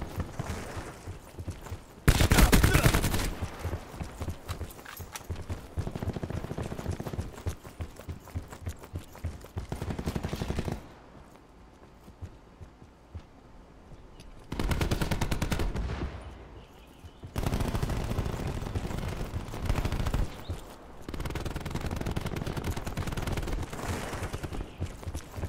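Bursts of automatic gunfire in the video game Call of Duty: Black Ops 4, several sustained volleys separated by quieter gaps, loud and close, with one sharp heavy blast early on.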